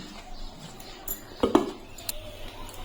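A lid set over a bowl of ripe-mango fritter batter made with semolina and rice flour gives a couple of quick, light clinks of contact, then fades into quiet room tone.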